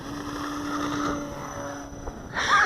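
An E-flite Cherokee 1.3m RC airplane's electric motor runs at full throttle for takeoff, a steady tonal whine that holds, dips briefly, then surges louder at the end, with some wind in the background.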